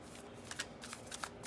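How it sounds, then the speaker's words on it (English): Tarot cards being shuffled by hand, a rapid run of soft papery flicks and riffles at close range, quiet and continuous for a moment with no talking. "do a little bit of extra shuffling that I would normally do because I'm usually using 3 different tarot decks"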